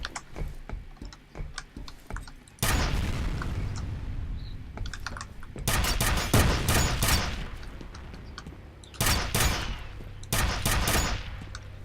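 Bursts of rapid gunfire in the shooter game F.E.A.R., loud and close, coming in several dense volleys separated by quieter stretches of faint clicks.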